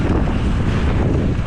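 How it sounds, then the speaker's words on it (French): Strong wind buffets the microphone during a motocross qualifying ride: a loud, steady roar with constant low rumble throughout, and no speech. "Il y a grave de vent"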